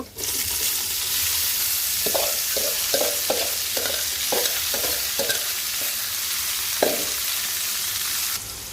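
Flat beans stir-fried with onions in a pan give a strong steady sizzle, cut by a run of rhythmic scraping strokes from a spatula tossing them, close and loud.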